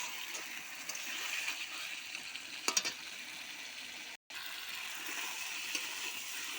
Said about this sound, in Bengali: তো চিকেনটা খুব ভালো করে কষা হয়ে গেছে